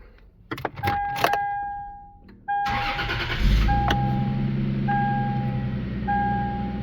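A car with a 2JZ engine cranks and fires up after a crank-no-start fault fix, then settles into a steady idle. Clicks and faint mechanical sounds come before the start, and the engine runs loud and close.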